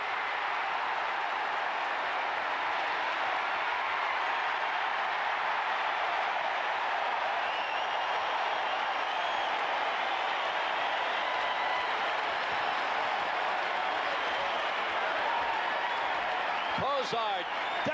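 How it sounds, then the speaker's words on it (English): A packed football stadium crowd at a 1985 NFL game, Browns at Seahawks, roars after a fumble, a loud, steady wall of cheering that fills the whole stretch without letting up, with a brief sharper tonal sound near the end. "Now here's this crowd we were speaking of in the first half. They will come alive now."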